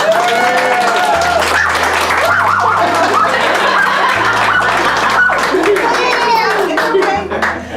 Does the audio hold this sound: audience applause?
yes